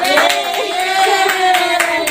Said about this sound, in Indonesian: pintar-pintar tepuk tangan loh